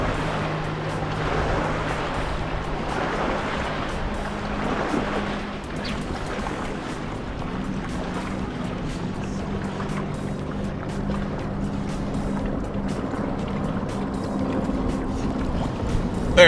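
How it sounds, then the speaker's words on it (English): Small waves lap and wind rushes steadily around a kayak on Lake Tulloch in summer, a continuous close wash of water with a low rumble and faint creaks from the boat, no voices. "The waves are coming, the wind's going."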